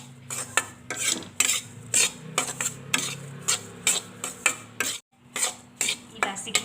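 Spoon scraping and clinking in a pan as cardamom powder is stirred into a flour pera mixture with the gas turned off, giving repeated rhythmic strokes and scrapes at close range, with no talking.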